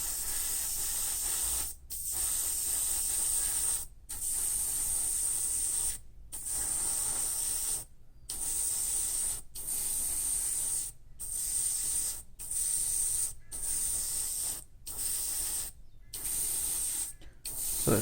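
An airbrush sprays clear red paint onto a scale model in long steady hissing bursts, about ten sprays separated by brief pauses, close and fairly loud.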